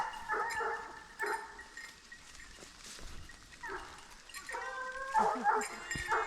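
Hunting dogs bark and bay in scattered, uneven bursts while chasing a wild boar during a driven hunt in woodland, some calls near and others farther off, over a rustling outdoor background.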